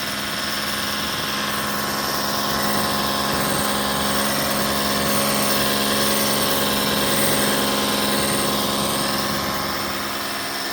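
A Ryobi battery-powered soap pressure washer runs steadily and close up, a dense continuous motor hum with hissing spray, no speech over it.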